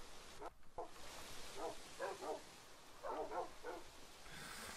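A pack of tamed dogs in Minecraft barks in short sharp bursts, sometimes in quick pairs or triplets, fairly close and moderately loud over a low background hum.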